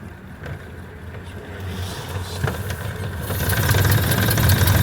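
A 1929 Ford Model A Woody station wagon engine pulls away in third gear, a steady low rumble that builds in loudness over several seconds with rising road and wind noise.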